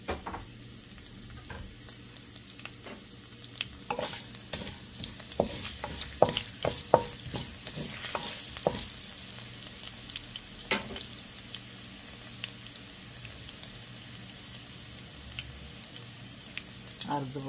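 Black mustard seeds and chopped garlic sizzle and crackle in hot oil in a pan, with spatula scraping and stirring clatter on top and a voice speaking now and then.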